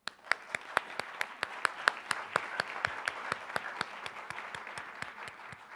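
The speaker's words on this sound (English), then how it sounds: "one more round of applause" An audience at a school Educator of the Year ceremony applauds, with crisp claps falling at a brisk, fairly even pace and slowly fading over several seconds.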